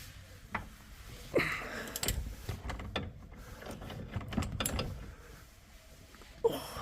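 A socket wrench tightening a bolt on the front control arm of a Mercedes W221 S600, quiet intermittent ratcheting clicks and metallic clunks at close range.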